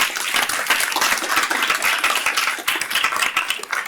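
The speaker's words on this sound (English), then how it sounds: "Let's give him a warm round of applause." Dense audience applause in a lecture hall in Philadelphia, a steady wash of many hands clapping at once for the arriving speaker, loud and continuous throughout.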